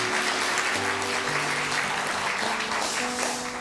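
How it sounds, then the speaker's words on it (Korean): A church congregation at a Sunday worship service gives a sustained round of warm applause, steady and evenly spread, with faint held tones underneath. "인사할 때 격려의 큰 박수 부탁합니다"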